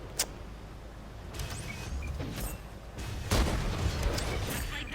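Tank cannon fire and shell impacts in World of Tanks gameplay, a sharp early crack followed by several booming hits over a rumbling engine bed, moderately loud with no speech.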